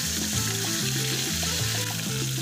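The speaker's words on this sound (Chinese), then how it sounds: "用中火煎制，大概2分钟左右，我们给它翻一个面，另外一面继续煎制。" Chicken legs pan-frying over medium heat, a continuous bright sizzle of oil with a steady hiss, close and even, with a low recurring hum running beneath it and no one talking.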